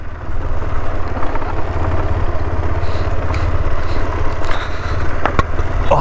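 A motorcycle engine runs steadily on a mountain road trip through Ladakh, a continuous loud rumble with no speech over it.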